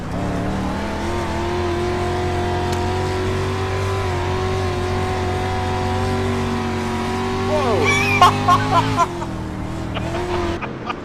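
A race car engine roars along the back stretch at a Friday night oval race, holding a loud, steady drone before surging and revving harder near the end, heard from on board.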